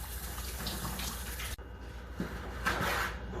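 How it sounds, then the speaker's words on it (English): Tap water runs steadily at a moderate level while hands are washed under it, with a short break midway and a brief splashy surge near the end, and no talking. "give my hands a quick wash"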